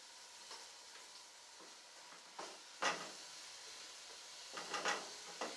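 Onion softens in a pan for a stuffed vegetable dish, a faint low sizzle broken by a few louder scraping stirs of a utensil against the pan.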